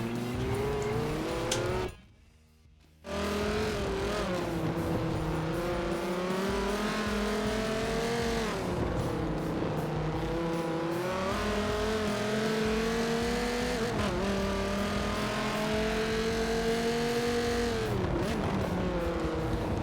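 Race cars lap the Long Beach street circuit in Forza Motorsport 7, engines howling with rising and falling pitch as they brake and accelerate through a corner. The sound is loud and continuous apart from one brief silent gap.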